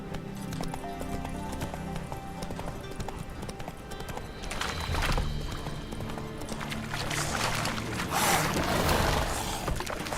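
Galloping horse hooves from The Witcher 3 video game, as Geralt rides his horse Roach: steady clip-clop rhythm with an occasional whinny, layered over game music and ambience, growing busier toward the end.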